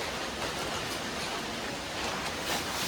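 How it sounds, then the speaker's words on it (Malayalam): Steady rain falls outside a home in a soft, even hiss of moderate level, continuous throughout without voices. "മഴയുണ്ട് അപ്പോൾ അത്യാവശ്യം സൗണ്ട് ഉണ്ട്"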